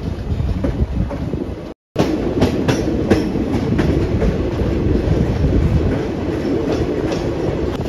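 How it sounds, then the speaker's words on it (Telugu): The Visakhapatnam–Kirandul Express starts climbing the first ghat section on the Araku route: a loud, continuous rolling rumble with repeated wheel clicks, broken by one brief dropout, and no voices. "ఇప్పుడైతే మన ట్రైన్ అయితే ఫస్ట్ ఘాట్ అయితే ఎక్కుతుంది."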